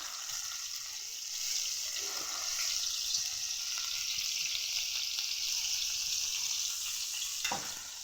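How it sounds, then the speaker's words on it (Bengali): Onion paste hits hot oil in a village kitchen and sizzles loudly and steadily, with a dense, continuous frying hiss and a brief clatter near the end. "পেস্ট করে রাখা পেঁয়াজ দিয়ে দেবো গরম তেলের মধ্যে"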